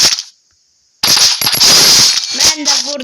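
Video game gunfire: a loud, close burst of rapid automatic shots comes after a brief silence and runs almost without a break, with a few sharper cracks near the end.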